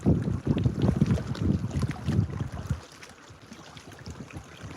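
Strong wind buffets an outdoor microphone on a swaying tripod at a fishing spot, with heavy low rumbling gusts for the first few seconds, then a calmer, lighter rustle, with no talk.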